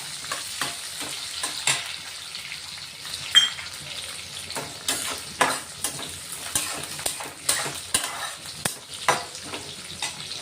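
Green chillies frying in hot oil with browned garlic in a pan, a steady close sizzle with repeated scraping stirs and light utensil clinks against the pan throughout.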